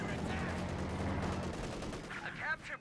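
Rapid machine gun bursts in Company of Heroes 2, a World War II strategy game, crackle under continuous battle noise, with scattered faint voices woven through the mix.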